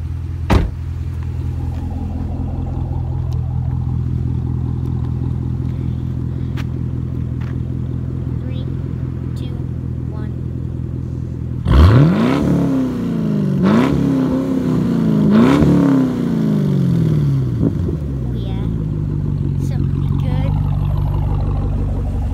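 A Chevrolet Camaro SS fitted with an X-pipe exhaust idles with a deep, steady rumble up close, then several sharp revs rise and fall before settling back to idle.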